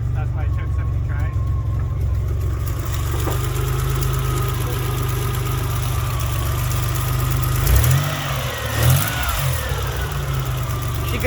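A Nissan R32 GTR engine idles with a steady deep rumble throughout, then revs a couple of times near the end. A voice talks over it at points.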